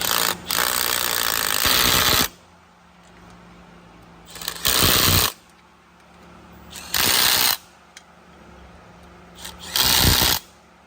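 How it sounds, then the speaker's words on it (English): A power tool tightens a bolt on a Duramax diesel intake assembly in four loud, harsh bursts of whirring and rattling, each a second or two long, separated by quiet gaps. "let me tighten this thing down so it doesn't move around, and I'll get that last bolt in"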